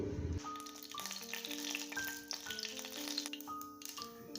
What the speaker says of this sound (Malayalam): എണ്ണ ചൂടായതിന് ശേഷം കടുക് പൊട്ടിക്കാം